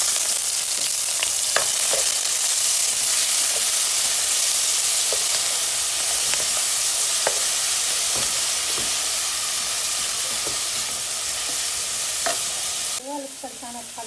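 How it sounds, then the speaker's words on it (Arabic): Onions frying in hot oil in a cooking pot, a steady close sizzle and hiss that carries on throughout, with a few light clinks and stirring scrapes, ending with a brief louder clatter. "هنا راح درت الطنجره تاعي تسخن، درت فيها شويه زيت، راح ندير فيها حب البصل تاعنا"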